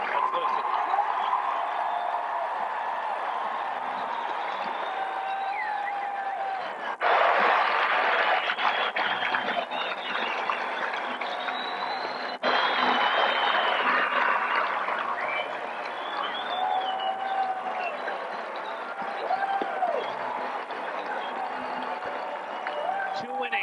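A stadium crowd of over 16,000, mostly Alabama fans, at the 1999 SEC Baseball Tournament championship, keeps up a steady roar of cheering with some booing mixed in, with a few louder surges.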